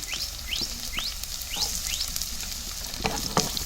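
Steady sizzling of onions frying in oil in a pan, with repeated scraping strokes of stirring and a few sharper clinks near the end.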